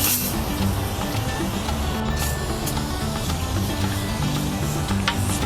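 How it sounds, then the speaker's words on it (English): Super Clean foam degreaser sprayed onto a Weber kettle grill, a steady continuous hiss of spray with faint clicks, close and fairly loud without pause. "Now time to go with this super duper degreaser. I'm gonna give this foam a shot for the first go."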